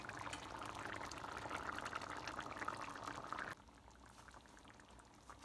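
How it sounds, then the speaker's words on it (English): Mutton curry simmers in a pot with a steady, close bubbling and boiling hiss that cuts down sharply to a quieter simmer partway through, with no talking. "It's been simmering 5 minutes now"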